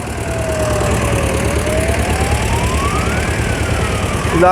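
Vintage Porsche tractor engine rolling past in a harvest festival parade in Stradunia, giving a steady low chugging rumble throughout, with a thin whistling tone gliding up and down over it and no talking.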